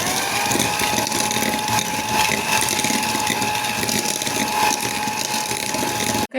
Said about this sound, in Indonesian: selanjutnya margarin sama gula campur di mixer